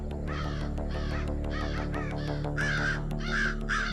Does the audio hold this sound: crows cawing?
yes